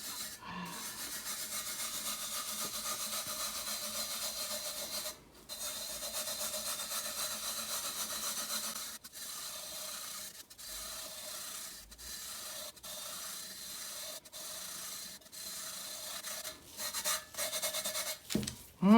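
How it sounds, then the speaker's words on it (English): Fingers burnish loose pink glitter onto a tack-coated tumbler, giving a steady dry rubbing and scratching sound that runs continuously, with brief pauses and shifts in pressure, close up with no talking. "Now, 2 or 3 fingers, burnish. Basically, you're just making the glitter lie down and play nice."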